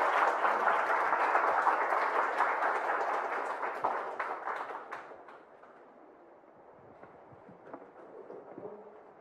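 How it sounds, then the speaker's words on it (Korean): An audience at a youth startup talk concert in Incheon applauds a presenter with a broad, dense round of clapping that fades after about five seconds, leaving scattered claps and quiet room noise. "앞으로 나오실 때큰 박수 부탁드리겠습니다"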